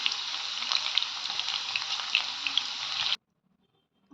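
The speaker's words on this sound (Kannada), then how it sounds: "ಈರುಳ್ಳಿ ಸ್ವಲ್ಪ ಫ್ರೈ ಆಗಿದೆ" Onions sizzle in hot oil in a pan while dill leaf rice is cooked, a steady bright crackling hiss that runs loud and close for about three seconds, then stops abruptly.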